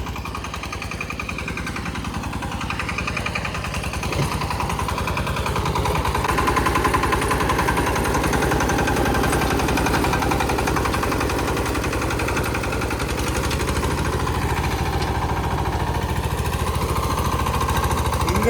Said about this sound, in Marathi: इंजिन लोड घेत नाही